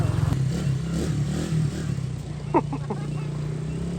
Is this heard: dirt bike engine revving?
yes